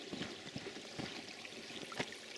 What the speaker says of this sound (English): It's running water.